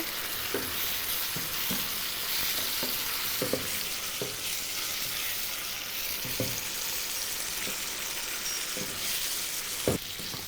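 Fried tofu sizzles in chilli sauce over high heat, a loud, constant frying hiss with occasional soft knocks of a utensil stirring the pan.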